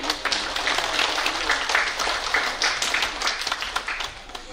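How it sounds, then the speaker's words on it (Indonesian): A crowd claps steadily, a dense wash of hand claps at moderate loudness that holds through the whole stretch without fading. "Boleh minta tepuk tangannya?"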